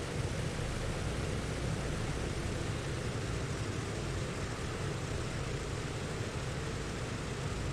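Steady broadband roar of a Douglas DC-6 propeller airliner in Microsoft Flight Simulator, continuous and even with no breaks or voices.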